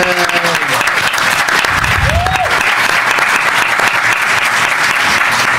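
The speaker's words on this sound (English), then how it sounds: "Let's give her a round of applause" Loud, sustained applause sweeps through the crowd at a Congressional Black Caucus Foundation voting rights event, thick and continuous throughout, with a brief vocal whoop rising over the clapping midway.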